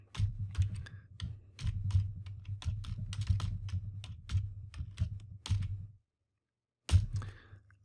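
Rapid typing on a computer keyboard while writing C# source code, with steady clustered key clicks for about six seconds, a short silence, then one final loud keystroke.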